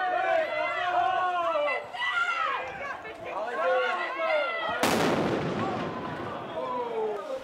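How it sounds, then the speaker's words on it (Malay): French police fire tear gas and water cannon at protesters: a loud crowd shouts and chants throughout, then a sudden sharp blast cuts through, followed by a hissing rush under continuing crowd noise. "Polis Perancis menembak gas pemedam mata dan menggunakan meriam air bagi menyuraikan penunjuk perasaan."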